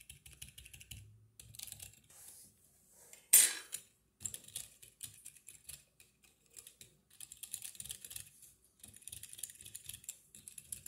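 Keyboard typing with trampoline-modded switches, soft muted clacks coming in quick irregular bursts separated by short pauses, with one sharper louder clatter early on; heard close-up and quiet, with no voices.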